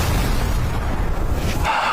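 An explosion rips through a family home in a Korean action thriller: a loud, deep, rumbling boom that fills the whole stretch, then drops away into a brighter, thinner rush at the end.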